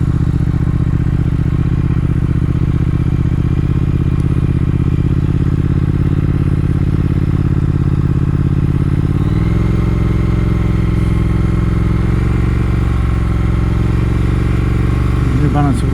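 A 2019 Triumph Speed Twin engine runs at slow riding speed, a loud, steady low rumble with a rattling mechanical texture, easing into a slightly changed tone partway through as a rider talks over it.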